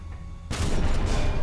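Tank cannon shot in War Thunder fired at an enemy turret: after a quiet half second a sudden loud blast erupts and rolls on as a dense, sustained rumble to the end, with no voices.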